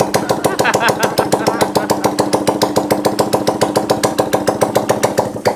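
A motorcycle engine idling with no exhaust pipe fitted, a loud, raw, rapid pulsing chatter that stays steady and close, with a voice heard briefly.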